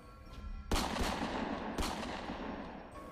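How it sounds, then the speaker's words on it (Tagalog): Three gunshot sound effects in a Tagalog audio drama crack out loud and echoing, close together, followed by a long reverberant rumble with no voices. "muli na naman may pag-alingaw-ngaw ng tatlong putok ng baril"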